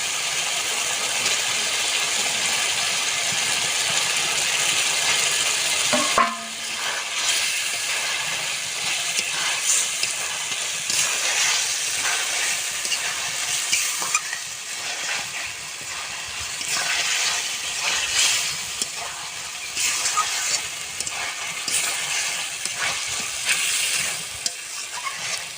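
Stuffed pointed gourds (potol) fry in a spice paste, giving a steady hiss and sizzle. A sharp sound of the gourds dropping into the pan comes early, then occasional stirring.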